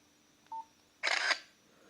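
A Nokia X2-00 phone camera takes a photo without flash: a short electronic beep, then a brief crisp shutter-like burst, clean and close in a quiet room.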